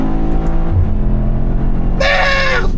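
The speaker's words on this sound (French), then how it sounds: "J'ai jamais conduit un truc avec 6 roues qui a autant la santé" A powerful six-wheeled car driven hard, its engine roaring loud and close with a steady drone that rises into a sharper rev near the end, with no talking.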